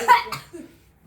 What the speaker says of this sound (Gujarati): દીદીને ક્યાં ઉધરસ છે? ઉધરસ છે